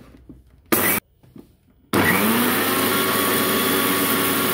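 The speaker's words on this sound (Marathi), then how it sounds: "आता आपण हे मिक्सरवरती बारीक करून घेणार आहोत." An electric mixer grinder grinding roasted cumin, coriander and ajwain: two short whirring bursts with pauses between them, then a loud, steady motor whine with the spices rattling inside.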